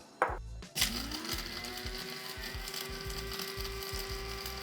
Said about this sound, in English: so now we're gonna grind our spices for the chili